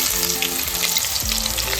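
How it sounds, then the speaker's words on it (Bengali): Chopped ginger sizzles and fries steadily in hot oil in a pan, a loud, continuous crackle with no voices over it. "তেল গরম হয়ে গেছে, দিয়ে দিচ্ছি কুচিয়ে রাখা আদা।"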